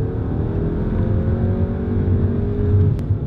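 Audi A3 with a 1.8 engine making about 180 brake horsepower accelerating on a road, heard from inside as a loud, steady engine drone with rising tones, and no talking.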